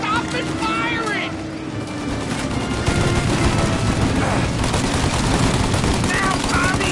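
Sustained gunfire from a shootout in Mafia: Definitive Edition, rapid bursts and shots rattling steadily and growing denser and louder toward the end, with shouting voices mixed in.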